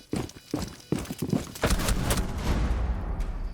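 An R4C assault rifle fires in a shooter game, with a series of sharp, rapid shots in uneven bursts, loud and close, followed by a lingering rumble of reverberant noise.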